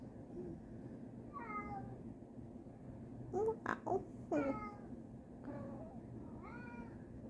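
A cat meows plaintively several times, wanting to be let outside, with drawn-out rising and falling cries spread across the stretch, and a brief burst of louder noise in the middle; a person speaks briefly.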